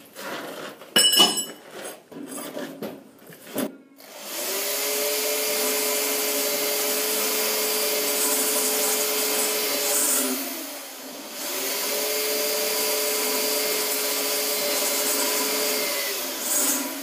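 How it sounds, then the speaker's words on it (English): A few sharp metallic clinks give way to a steady whining step drill boring holes in metal, running in two long passes with a short pause between. "I thought I'd give the step drill, like a beehive type drill, a bit of a try"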